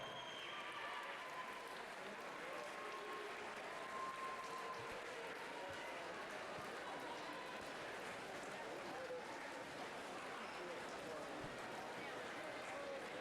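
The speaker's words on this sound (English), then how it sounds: "Feel free to give them some applause as they hit the wall." Audience clapping steadily at the 2015 Arena Pro Swim Series in Minneapolis as swimmers finish the men's 1500m freestyle final, a dense continuous wash of applause with crowd murmur throughout the whole stretch.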